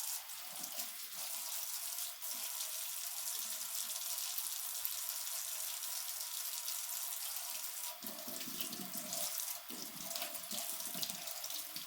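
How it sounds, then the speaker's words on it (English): A Misen kitchen knife rinsed under a running tap, water streaming steadily into a sink with brief splashy bursts as the blade passes through the flow, no voices. "I'll go ahead and wash this real quick."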